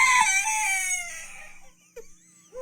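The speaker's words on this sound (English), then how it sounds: "Who invited the chicken to this party?" A chicken crows loudly and close for about two seconds, a long drawn-out call that fades away, followed by a couple of short clucks.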